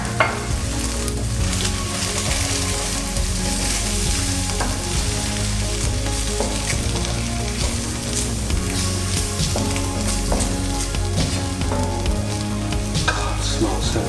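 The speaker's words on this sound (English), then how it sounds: "We're going to just mix that in and stir that up for a little while." Spices including fennel seeds and garam masala being stirred into a frying lamb curry: a loud, dense, unbroken sizzle with scattered utensil scrapes, backed by a steady low tonal hum.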